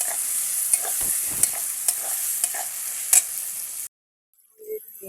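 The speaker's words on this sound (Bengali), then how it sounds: "পেঁয়াজ আর টমেটোটা ফ্রাই হয়ে গিয়েছে" Onion and tomato fry in oil with a loud, continuous sizzle punctuated by scraping stirs and a few sharp clinks, then cut off abruptly, leaving near silence with a faint stray sound; no talking.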